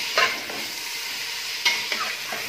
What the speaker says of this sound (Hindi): Chicken को डाल के थोड़ी देर oil के साथ इसको गरम oil में थोड़ा सा भून ले.